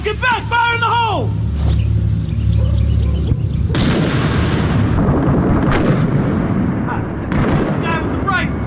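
A grenade explodes in Ghost Recon Breakpoint: a heavy, loud blast breaks in partway through and rumbles on with a long tail, after a shouted voice and other game sounds.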